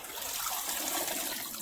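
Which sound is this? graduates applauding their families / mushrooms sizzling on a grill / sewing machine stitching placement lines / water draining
water draining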